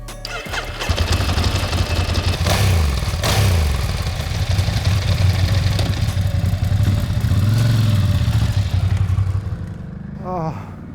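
A Ducati Hypermotard 1100 motorcycle's engine runs close by with a deep, lumpy rumble that rises and falls through several revs before it drops away.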